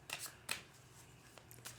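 Tarot cards are shuffled close by, a couple of quick riffling bursts followed by softer card flicks, quiet and without talk.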